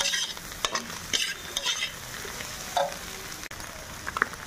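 Vegetables stirred with salt and pepper powder in a pan for chicken fried rice: a steady frying sizzle broken by repeated scraping and knocking of a spoon against the pan, close and moderately loud, with no one speaking.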